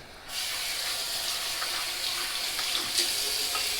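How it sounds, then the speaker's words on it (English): Very hot water runs from a tap into a stainless steel bowl, a steady, loud hissing rush that starts abruptly and continues unbroken, close by and alone. "Now I'm going to fill that one stainless steel bowl with very hot water"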